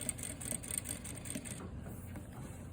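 A sewing machine stitches bias binding onto a garment neckline, making a faint, steady mechanical whir with rapid rhythmic ticking that eases off partway through.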